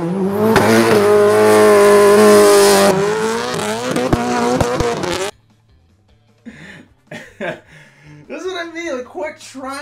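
A car thrown into a hard gymkhana-style turn, its tires squealing loudly and steadily for about five seconds before cutting off, followed by people talking.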